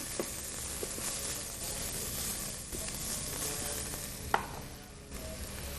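Onions fry in a pan with a steady close sizzle and hiss, broken by a few soft clicks and scrapes of stirring.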